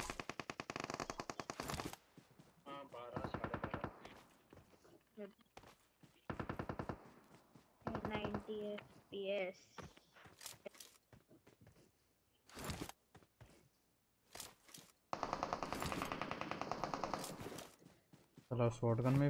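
Bursts of gunfire from shotgun and M4 weapons in the mobile game PUBG Mobile, sharp rapid volleys separated by short gaps, with someone talking in between.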